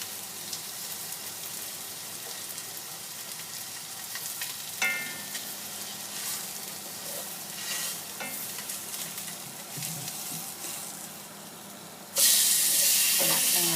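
Steady sizzling of silver cod frying with herbs in a La Rose pan, with occasional scraping stirs and a louder hissing burst near the end.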